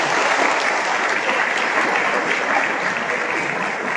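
An audience at a choir concert, part of a litoral folk song and dance festival, gives steady, full applause that holds at an even level throughout without pause.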